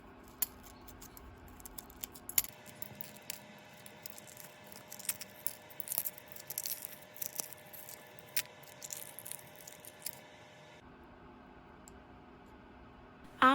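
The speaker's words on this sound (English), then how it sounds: "After peeling the egg," A hard-boiled egg, boiled six minutes and cooled, being peeled by hand: small dry crackles and scattered clicks of shell breaking away, close and fairly quiet, with no voices.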